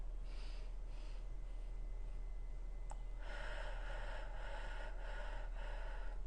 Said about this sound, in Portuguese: É uma respiração onde você inspira uma vez e expira uma vez.